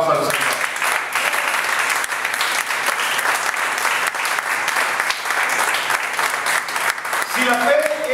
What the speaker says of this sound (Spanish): Dile fuerte el aplauso al Señor